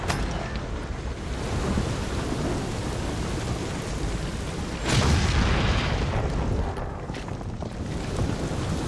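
A thunderstorm rages in Marvel's Guardians of the Galaxy video game, a constant roar of heavy rain and wind with a louder rumbling thunder surge midway and no voices.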